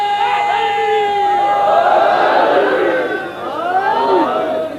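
A majlis audience in an imambargah shouting a slogan together, a loud sustained massed roar of many voices rising and falling in unison, close and filling the hall.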